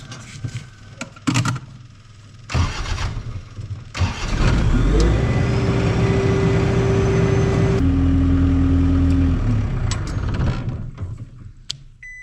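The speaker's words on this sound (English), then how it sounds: "Now we'll make sure that it starts the skid steer here." Clicks and clunks sound as a skid steer's engine cranks over and catches, then settles into a loud, steady diesel idle with a strong low rumble. The engine note shifts to a different pitch partway through.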